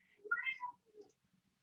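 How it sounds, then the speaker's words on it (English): Cat vocalizations, a few short rising meows close by, heard in a quiet setting, with one main call followed by a softer shorter one. "there's different kinds of cat noises."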